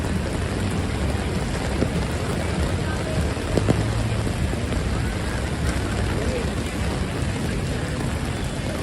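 Heavy rain pours down across New York City during flash flooding, a dense, constant wash of noise close by, with a faint tonal hum and no clear voices.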